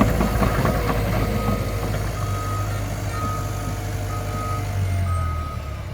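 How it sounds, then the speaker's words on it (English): Excavator diesel engine idling nearby with a repeating reversing beep sounding at a regular pace over the steady rumble, no talking. "I have to jump on the excavator"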